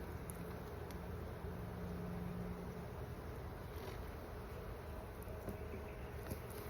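Continuous dense buzzing of many honeybees around an open hive, close and steady throughout, with no voices.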